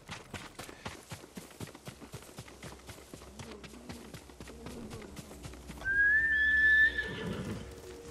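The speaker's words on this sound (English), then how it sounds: "You're a good horse, Noble." Hooves clop in a steady rhythm, then a horse in the video game Ghost of Tsushima lets out a loud, high whinny near the end before the hoofbeats resume softly.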